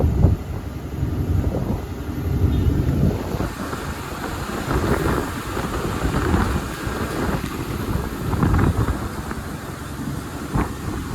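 Steady wind rushes and buffets across the microphone, a loud continuous roar with gusts swelling and easing throughout.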